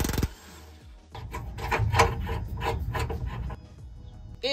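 Nuts threaded by hand onto the bumper bolts of a Ford Econoline van, heard as a close, rhythmic series of short metallic rasping scrapes after a brief quieter start.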